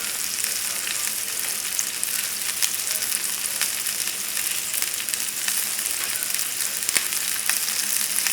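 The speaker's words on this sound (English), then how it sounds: "As long as you're hearing that little sizzling" Wasabi beef tips sizzle and fry loudly in a hot pan, a steady dense crackle with small pops and no one talking.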